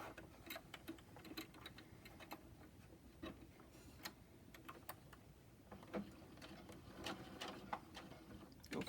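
A sewing machine stitches a small casing on a face mask to hold the nose wire, producing short, faint bursts of needle ticking that stop and start as the stitching moves forward and back.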